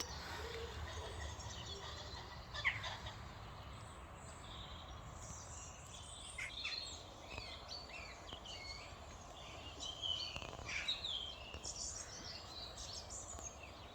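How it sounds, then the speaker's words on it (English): Several kinds of birds sing at a farm at sunrise, with scattered chirps and calls at moderate distance over a faint, steady outdoor hush. "Lots of different bird song here."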